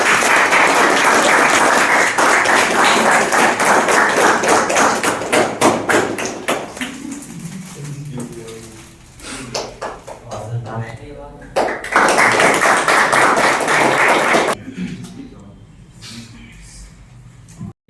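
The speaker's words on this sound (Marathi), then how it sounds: "सगळ्यांनी टाळ्या वाजवा" An audience claps in applause at an event celebrating a new junior clerk at the Ahilyanagar district court. Dense rattling clapping starts loud and close, thins into scattered claps with talk, then swells again before fading.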